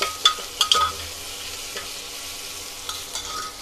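Tomatoes fry in a pan for veg tahari as a spoon stirs them, with a few scraping clanks near the start and later, over a soft, low sizzle.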